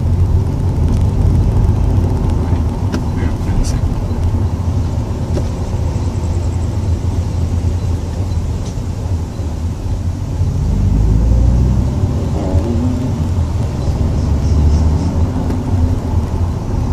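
Lexus IS200 engine pulling in third gear, a steady low rumble with road and wind noise throughout, swelling slightly louder toward the middle, heard from inside the car with no talking.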